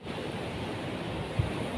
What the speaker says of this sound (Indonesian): Ini ombaknya lagi besar nih kayaknya